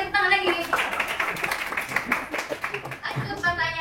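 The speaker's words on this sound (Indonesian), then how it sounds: "Oke, tepuk tangan lagi." Schoolchildren in a classroom clap their hands again in a dense, steady round of applause lasting a few seconds, with young voices at the start and end.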